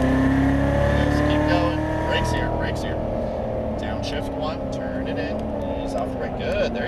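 Engine of a Chevrolet Corvette Z06 Stingray building revs as it accelerates on a race track, a steady loud drone rising in pitch beneath an instructor's continuous coaching.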